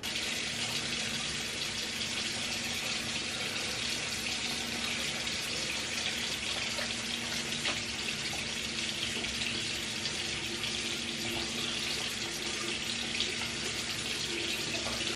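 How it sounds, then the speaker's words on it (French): Water from a tap runs steadily into a bathroom sink while a face is rinsed, a constant close hiss and splash with no talking. "Je viens de me rincer le visage."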